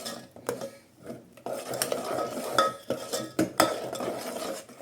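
Sesame seeds and a spoonful of ghee stirred in a bowl for a festive sweet, with close scraping and clinking of a spoon against the bowl in irregular bursts, no talking.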